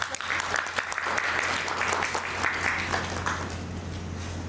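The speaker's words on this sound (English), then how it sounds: "can we have an applause for?" Audience applause for a guest speaker, an Ukrainian poetess and writer, at a literary event, steady clapping from a gathered crowd with a constant low hum underneath, fading slightly toward the end.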